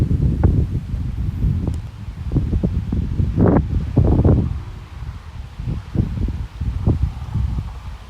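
Gusty wind buffeting the microphone in low rumbling bursts at an elevated outdoor memorial site, with intermittent rustling and fluttering at close range.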